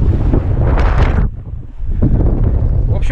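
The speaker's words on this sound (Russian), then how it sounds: "Ветер дует, капец." Strong wind roars and buffets close to the microphone, a loud rushing gust that dips briefly and then surges back.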